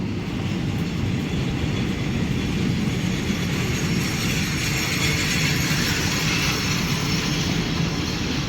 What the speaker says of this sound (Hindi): खजुराहो से चल के कुरुक्षेत्र को जाने वाली खजुराहो गीता जयंती एक्सप्रेस